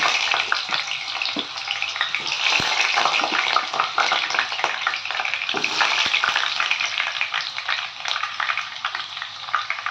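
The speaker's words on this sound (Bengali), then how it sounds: "এবার আমি ডুমো ডুমো করে কেটে রাখা আলুগুলোকে এবার ভেজে ফেলবো" Diced potatoes go into hot oil in a wok with a dense, continuous crackling sizzle. Occasional stirring clicks sound close and fairly loud throughout.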